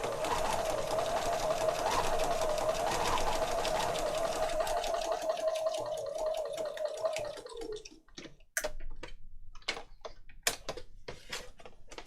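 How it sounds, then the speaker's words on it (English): A sewing machine stitches around tags for a junk journal, running in a steady continuous whir for several seconds, then stopping, followed by scattered close clicks and taps as the work is handled. "so that's our 3 tags sewn around"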